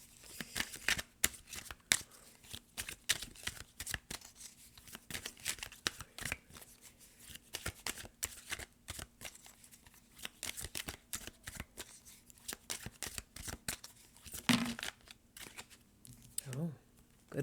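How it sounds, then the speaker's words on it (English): Oracle cards shuffled repeatedly in quick rustling, flapping bursts, close and fairly quiet, with brief pauses between riffles. "Let me get a good shuffle here."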